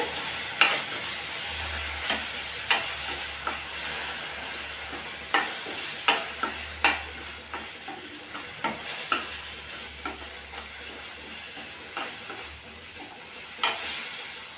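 Masala with peeled garlic is sautéed in a pan for a vegetarian fish-style kuzhambu. A spatula scrapes and stirs in regular strokes over a constant sizzle, close and clear with no talking.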